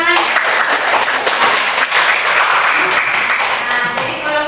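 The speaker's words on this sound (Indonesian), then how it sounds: "Ya, tepuk tangan." A classroom audience bursts into sustained applause at the close of a group discussion, a thick, even clatter of many hands clapping continuously at close range.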